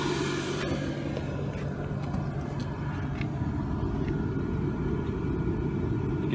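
An oil-fired home heating boiler runs continuously outdoors near its chimney, giving a steady low rumbling roar with an even hum that neither rises nor fades.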